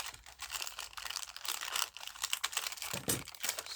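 The paper window is peeled and torn out of an envelope, a close run of crinkling, rustling and ripping bursts that vary in loudness, with a sharper tear near the end.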